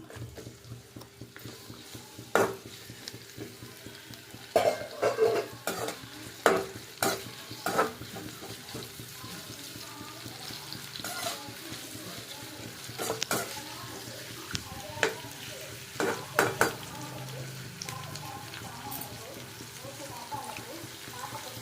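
Onions and green chillies frying in hot oil in a pan for egg Maggi, a soft sizzle under intermittent scraping and stirring clicks of a utensil against the pan, with faint background noise.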